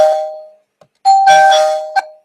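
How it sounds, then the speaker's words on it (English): A doorbell chimes two tones, then sounds again with a second ding-dong, clear and ringing in a quiet room. "yeah, that was the doorbell."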